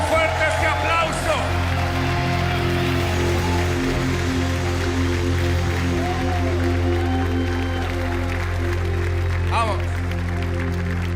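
Audience applause at a church worship concert, a steady wash of clapping from a crowd under sustained music, with a voice speaking briefly over it.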